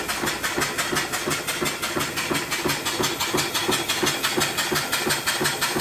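An antique 1890s stationary steam engine with a spinning flyball governor runs on a temporary steam hose, chuffing in a fast, even rhythm of regular exhaust beats with a constant mechanical clatter, close and steady throughout.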